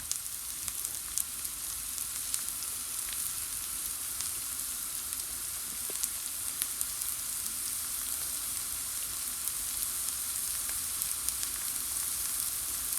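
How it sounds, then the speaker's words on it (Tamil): Continuous crackling sizzle of chopped onions frying in hot oil, steady and close, with occasional faint pops and no voices. "எண்ணெய் கொதித்த பிறகு பொடி பொடியாக நறுக்கின வெங்காயத்தை போடுங்க"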